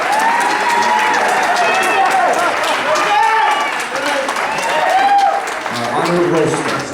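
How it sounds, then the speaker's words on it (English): Guests at a surprise 60th birthday party applaud and cheer for an honored guest taking the dance floor, a dense continuous clapping roar with voices and whoops mixed through it. "A warm round of applause, ladies and gentlemen"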